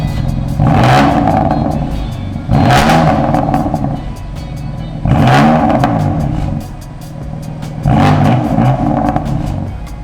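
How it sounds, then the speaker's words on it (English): A BMW F80 M3 on its stock exhaust revs hard four times in a regular rhythm, each loud close surge falling back to a rumbling idle between blips. "Now let's start it up with stock exhaust."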